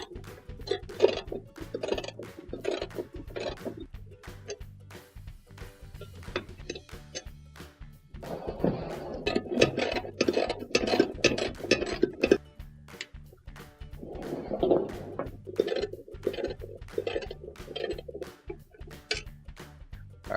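A 1/2 inch socket ratchet removing the bolts that hold the legs on a washing machine, producing fast, steady clicking ratchet strokes in long runs, up close, with brief pauses between bolts.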